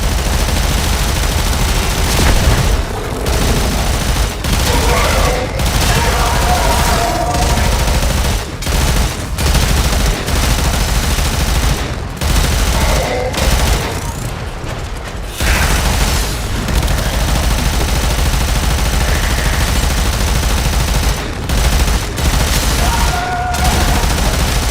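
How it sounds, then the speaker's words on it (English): Dense, sustained gunfire from the video game Warframe: a loud fusillade of shots and booms runs almost without pause throughout, with brief gaps between bursts. "Draw somebody out into the open so I can shoot them up."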